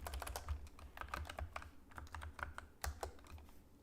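Password being typed on a computer keyboard, a quick, uneven run of soft key clicks, fairly close and quiet, with no talking.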